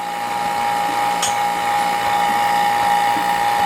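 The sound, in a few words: cow milking machine pulsator running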